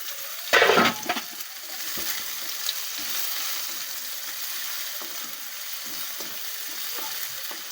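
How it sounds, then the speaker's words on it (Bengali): Two or three garlic cloves and chopped onion hit hot oil for moong dal with rohu fish head, bursting into a loud crackle that settles into a steady, even sizzle. "এবার এই তেলের মধ্যে এই যে 2-3 কোয়া রসুন আর একটু পেঁয়াজ কুচি দিয়ে দেবো।"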